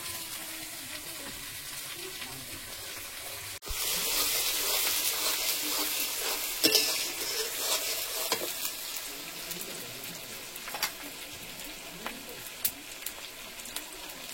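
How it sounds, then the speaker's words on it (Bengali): Chopped tomato dropped into a pan of fried onion, a sudden burst of loud sizzling that continues steadily, with stirring clinks and pops over the hiss. "পেঁয়াজটা ভালো মতন ভাজা হয়ে গেছে এবার আমি একটু টমেটো কুচি দিয়ে দিলাম"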